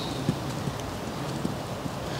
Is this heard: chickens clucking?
no